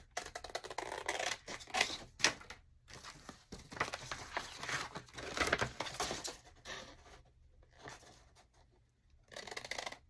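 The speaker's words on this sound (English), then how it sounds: "And now I'm going to cut all these two flaps." Scissors cut paper calendar flaps along a crease, giving close, crisp snipping and rustling in irregular bursts with short quiet gaps between cuts.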